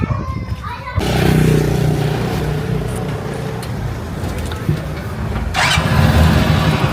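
A tricycle motorcycle engine sputters to life and settles into a continuous loud rumble as it rides off, with voices faintly mixed in.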